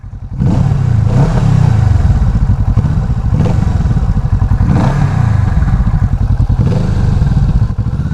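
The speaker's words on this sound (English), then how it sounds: "Let's give it a little rev." A Kawasaki Vulcan S motorcycle fitted with an Arrow exhaust idles loudly up close with a throbbing, lumpy beat. It is blipped in a few short revs that rise and fall.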